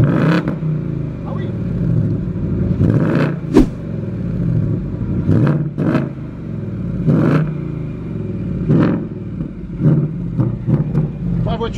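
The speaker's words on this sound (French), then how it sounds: "Vous allez écouter le V8 American. 5 litres de cylindrée." An older Aston Martin DBS's 5-litre V8 engine revs in repeated sharp bursts, roaring up and dropping back several times, with voices talking between the blips.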